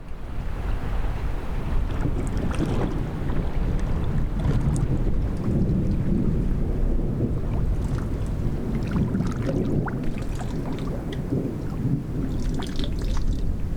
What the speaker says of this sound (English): Can you hear that thunder? It's just rolling non-stop.